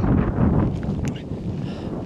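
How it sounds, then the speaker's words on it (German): Strong wind buffets the microphone on a mountain hike across marshy Norwegian fell country near Hjerkinn, a loud continuous low roar with gusty swells and no voices. "der Wind ist sehr laut"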